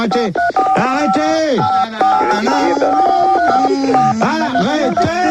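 Telephone keypad tones are sequenced into a tune, with steady pitched beeps stepping through a melody at a bouncy rhythm; a voice briefly cuts in over the tones.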